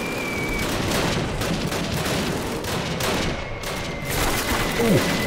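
Sustained battlefield gunfire in Call of Duty (2003), a World War II shooter, with overlapping rifle and machine-gun bursts and occasional heavier booms, loud and continuous throughout.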